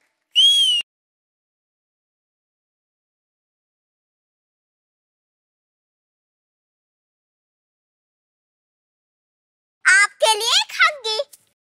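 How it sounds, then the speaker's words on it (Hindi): A short, bright whistle given as praise on a kitchen cooking show sounds near and clear at the start, then silence follows until a burst of shrill, warbling whistles near the end. "इसके लिए एक सीटी तो बनती है"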